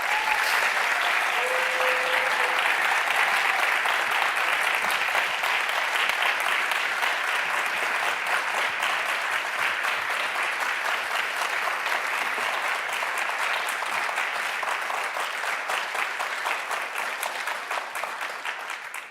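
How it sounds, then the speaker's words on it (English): A large forum audience applauds five finalists walking onto the stage, a loud, dense and sustained round of clapping that runs unbroken for nearly twenty seconds and fades only slightly at the close. "Let's have our 5 finalists on the stage and give them a big round of applause."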